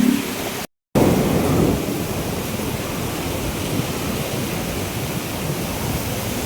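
Dense, steady roar of heavy rain pouring down continuously, with a low rumble of thunder near the start and a brief dropout early on.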